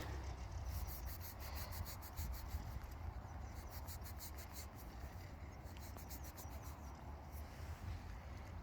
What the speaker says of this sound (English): Just give it a quick rub on my trousers.